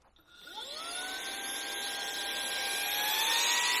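A cordless 300W brushless vacuum cleaner with a brush head attached switches on and spins up: a rising whine that climbs over the first second, then holds as a steady, loud high-pitched motor hum with no talking.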